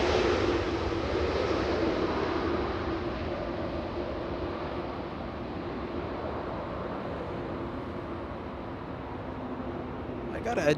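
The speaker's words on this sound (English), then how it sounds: "Let's take a look at that 777 Speedbird 280" A Boeing 777, Speedbird 280, heard at Los Angeles International Airport as a steady, loud jet engine roar that fades slowly, with a voice speaking over it.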